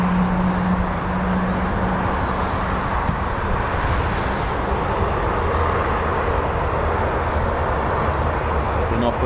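A military aircraft flies over RAF Waddington during Exercise Cobra Warrior, its engines making a loud, steady, broad roar that holds without a break, while someone talks over it.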